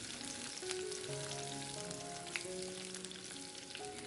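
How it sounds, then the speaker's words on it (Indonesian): Minced garlic and sliced red chili frying in about five spoonfuls of oil in a wok, a steady close sizzle with scattered pops and crackles, no talking. "Tumis bawang putih cincangnya sampai harum."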